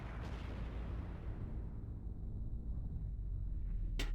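Bombs going off in Borderlands 2: a continuous heavy, low rumble of blasts rolling together, ending with a sharp, bright pop close by.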